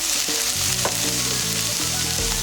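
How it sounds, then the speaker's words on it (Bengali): Sliced mushrooms and carrots fry in a pan for fried rice, giving a steady, close, loud sizzle with faint stirring scrapes underneath and no voices. "এবার আমি সবজি দিয়ে দিচ্ছি, মাশরুম গাজর সবজি নিয়েছি।"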